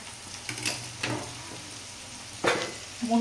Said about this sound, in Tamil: முட்டை அடுப்பை கம்மி பண்ணி வச்சுட்டு இப்போ ஒரு முட்டையாக உடச்சி ஊற்றுங்க